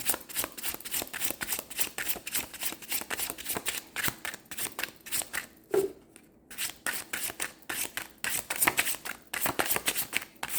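Tarot or oracle cards are shuffled continuously for a card reading, a close, rapid rhythmic riffling and flapping with a brief pause midway, without talk.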